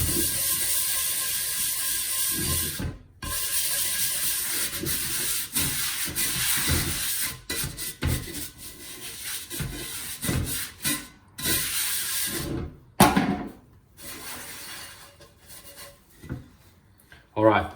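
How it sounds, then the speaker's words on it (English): Someone scrubs a new cast iron skillet with a brush, giving repeated rough rasping strokes, close and fairly loud, broken by short pauses. "Let's give this a scrub."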